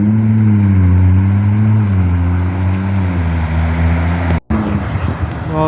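A Lamborghini Aventador SVJ Coupe engine revs up loud and close, its deep harmonic drone falling and then easing off, cut by a brief dropout before a rougher idle resumes, heard on a London street.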